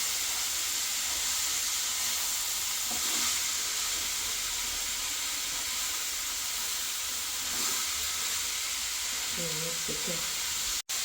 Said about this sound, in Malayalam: ഉപ്പിട്ട് ഒന്ന് ഇളക്കി കൊടുക്കാം